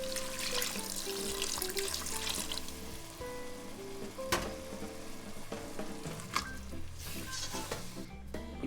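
Dashi stock poured into a simmering octopus ragu, with steady sizzling and liquid splashing as the pan is stirred, scraping and clinking sounds scattered throughout, close and continuous with no talking.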